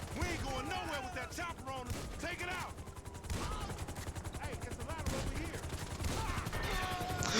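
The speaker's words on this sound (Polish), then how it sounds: "helikopter we mnie strzela" Rapid bursts of helicopter gunfire in GTA V crackle loudly and continuously, mixed with game sound effects and a faint rotor drone.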